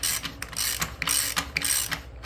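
A ratchet snugs bolts on a high-power DIY e-bike build: close, rapid pawl clicking in several quick bursts of strokes over a couple of seconds.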